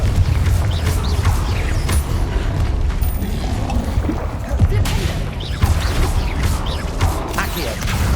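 Fire and explosive spells cast in Hogwarts Legacy, a run of heavy booms and crackling bursts over a constant rumbling, loud and close, with a few short bits of background noise in between.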